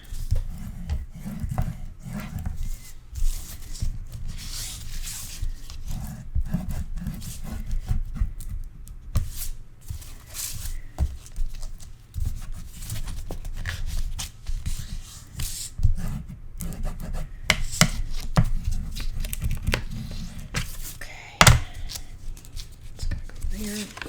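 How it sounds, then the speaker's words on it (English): A scrapbooking burnishing tool rubs paper against a hard glass surface, giving soft scraping strokes in uneven bursts, close by, with someone talking over much of it. "I do find I get a better burnish on the harder glass surface than I do on the softer self-healing mat situation"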